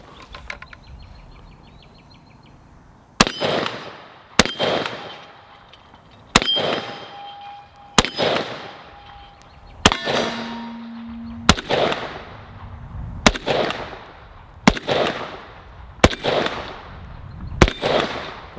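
Century Arms AK-47 rifle fired outdoors: about eleven loud, sharp cracks spaced a second or two apart, each followed by a short ringing tail, with no talking between shots.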